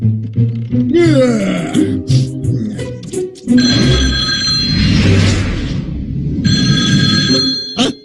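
A telephone bell rings loudly in two long bursts with a short gap between them, following a stretch of cartoonish vocal noises and sound effects in a comedic scene.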